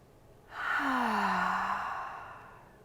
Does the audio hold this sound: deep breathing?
yes